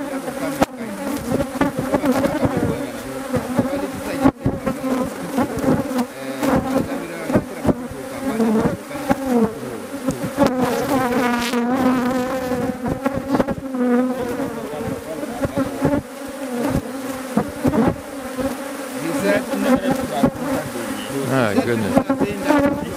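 Many bees buzz densely around a Kenyan top-bar hive in a village in Guinea, a steady, close swarm drone that continues throughout, with occasional faint voices beneath it.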